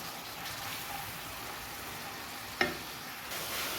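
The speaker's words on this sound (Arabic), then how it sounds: "نضيف له بصل مرحي وسنه تاع الثوم ونزيد نقليه مليح" Chopped onion and a garlic clove frying with chicken in a pan, giving a steady, moderate sizzle throughout with a single brief utensil clink partway through.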